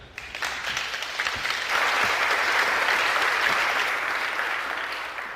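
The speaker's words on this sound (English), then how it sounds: "give a warm round of applause for Ariel." Audience at a CodeConf 2015 tech conference applauding a speaker coming on stage, clapping that swells quickly and holds strong and steady before easing off slightly.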